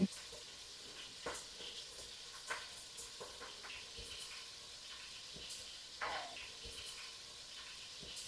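Beef searing in a hot Dutch oven for Guinness beef stew, a steady quiet sizzle with scattered soft clicks and scrapes as pieces are turned, no voices.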